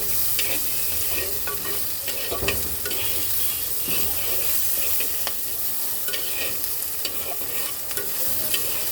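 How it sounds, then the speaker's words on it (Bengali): Round-sliced onions frying in a pan for a fish dopiaza with potato and tomato, a continuous close crackling sizzle with occasional scrapes and clinks of a spatula stirring them, no talking. "চলো এখন পেঁয়াজটাকে একটু হালকা ভেজে নেই"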